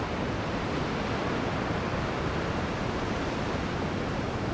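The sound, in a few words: ocean waves at sunset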